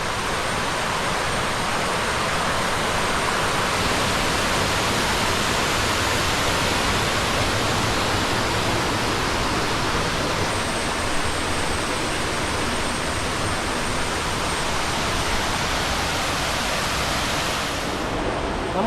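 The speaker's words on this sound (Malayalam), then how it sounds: "ഇതാണ് അഞ്ചുകുഴി വെള്ളച്ചാട്ടം. ഒരു രക്ഷയില്ല കേട്ടോ, അടിപൊളി വെള്ളച്ചാട്ടം." The Anchukuzhi waterfall rushes in a steady, dense roar of falling water, loud and close, unbroken for the whole stretch with no voices.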